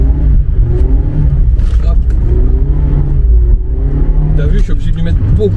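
A stock Mazda MX-5 ND with the 1.5 engine drones steadily while drifting at high angle, its engine note rising and falling. People talk over it throughout.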